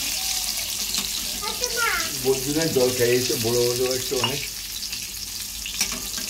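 Eggplant fries in a pan with a steady, close sizzle, while a voice speaks briefly over it midway.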